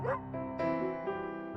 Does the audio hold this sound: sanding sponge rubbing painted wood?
no